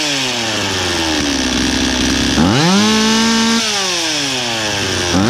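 A Stihl 026 chainsaw running without its air filter or bar, a loud buzzing idle that revs up sharply, holds a higher pitch and then drops back.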